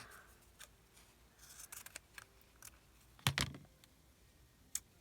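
Scissors snipping paper scraps in a few quiet, separate cuts, one louder crisp snip in the middle, close and faint with no talking.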